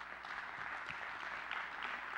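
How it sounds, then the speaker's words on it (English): A church congregation gives a touring worship band a round of applause, a soft, steady patter of clapping heard from a distance throughout. "Let's give them a round of applause."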